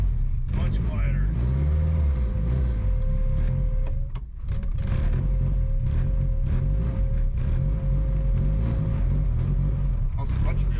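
A turbo Datsun 510 with a KA24DET engine drives through a rainstorm, a loud, steady low rumble inside the cabin holding a constant tone with a brief dip midway, with people talking over it.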